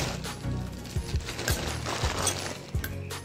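Metallic ratcheting clicks from a screwdriver working a bolt on the air filter cover of a Honda Vario 125 scooter, several short clicks spaced irregularly, close and moderately loud.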